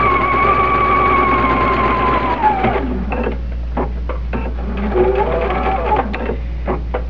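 A domestic sewing machine stitches around a fabric face mask in a steady whirring run, then stops for a pivot at the corner before several short, choppy bursts of stitching, heard close up.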